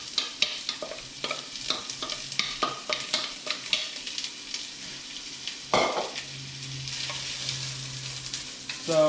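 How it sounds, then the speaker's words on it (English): Onion and garlic sizzling in hot oil in a pan for chicken fried rice, with steady frying hiss broken by repeated scraping and stirring strokes and a clatter of utensils. "I'm just gonna put the onion and garlic in first. Just gonna get that in there, get that oil nice and hot."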